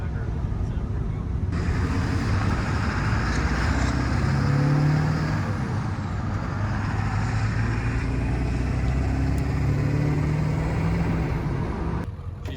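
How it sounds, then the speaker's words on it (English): A hood-stacked Cummins diesel truck engine runs warm at operating temperature, giving a steady, loud low rumble that holds throughout with no pauses, and some wind noise mixed in. "Listen how good this motor sounds."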